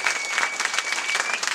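Brief burst of dense audience applause at a street dance show tribute to Flyson, rapid even clapping from a sizable crowd throughout.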